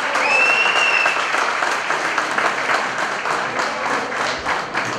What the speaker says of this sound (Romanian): Aplauze pentru jucătorii Politehnicii Iași.